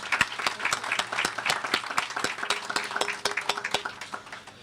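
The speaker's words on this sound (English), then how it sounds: "So I would like to give them a round of applause." An audience at a Centennial Village ribbon cutting in West Parkside breaks into lively applause, many hands clapping in a dense, uneven patter that swells and then gradually thins out.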